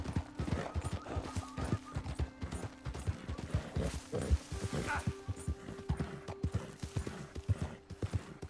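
Horse hooves clip-clopping at a steady gallop in Red Dead Redemption II, rhythmic and close, with a brief whinny and game ambience layered underneath.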